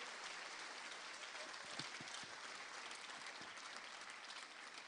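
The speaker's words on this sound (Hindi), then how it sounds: "एक बार ताली बजा के जरा सब लोग" Faint, fairly distant applause from an audience at a Bundeli cultural gathering, a dense patter of clapping that holds steady throughout with a few sharper individual claps.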